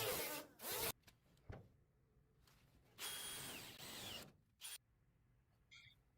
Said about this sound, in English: we're going to clean that up with a flat disc.